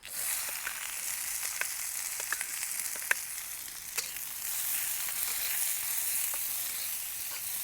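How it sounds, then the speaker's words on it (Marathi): Onion fries in oil in a kadhai after mustard seeds are tempered, giving a steady, continuous sizzle with occasional small pops and stirring clicks, close and even throughout with no talking. "कांदा पण खमंग परतून घ्यायचा आहे"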